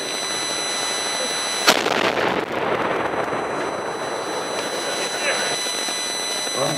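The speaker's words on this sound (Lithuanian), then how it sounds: "Dabar bus iššautos trys salvės iš senovinės patrankos." Antique cannon firing a ceremonial salvo at a volunteer defence forces event, one sharp loud boom that rolls into a long fading rumble and echo, with a continuous background hum and faint voices.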